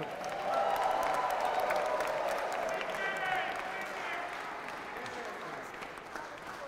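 An audience at a county mayor-elect's victory speech gives a round of applause, a broad wash of clapping with some cheers that slowly tapers, fairly distant and steady.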